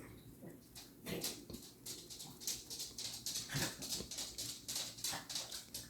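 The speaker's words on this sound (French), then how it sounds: "Si vous entendez du bruit, ce sont mes petits chiens" Small dogs move about nearby with quick pattering steps and light scuffling, plus occasional soft whimpers, all fairly quiet.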